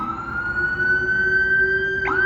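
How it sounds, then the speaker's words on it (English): A steady wailing siren sounds loudly and continuously, with a rumbling engine beneath it. "Whoa, sirens, hang on."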